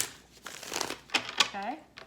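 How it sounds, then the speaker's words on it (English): Tarot cards being shuffled by hand in quick papery riffles and taps, close and fairly quiet, without talk. "I'll give one more shuffle here because they're, see if I can loosen these things up a little bit."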